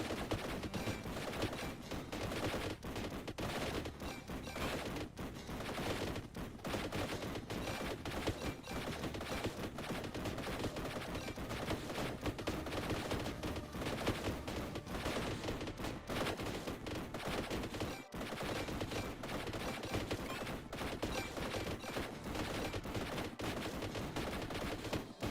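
Continuous rapid-fire las gun shots from a las carbine in the Warhammer Survivors game, a dense unbroken barrage of crackling fire lasting throughout, loud and steady with no pauses.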